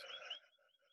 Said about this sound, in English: I can hear the frog saying that